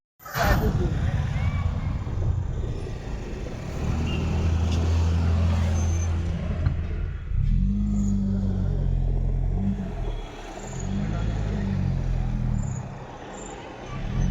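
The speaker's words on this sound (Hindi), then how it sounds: "बहुत ट्रैफिक लगा हुआ है यहाँ पे" Heavy road traffic on a hill road in Mussoorie, with steady engine rumble from cars and trucks nearby, a hiss of air brakes and revving as vehicles creep along, continuous throughout with voices talking underneath.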